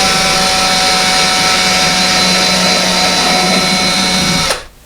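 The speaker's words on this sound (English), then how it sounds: "So we're going to drill it just a little bit more, just so the screw can bite into the stud" A power drill bores through sheetrock into a wooden stud, a loud steady motor whine with grinding bite that holds for several seconds and then cuts off abruptly as the trigger is released.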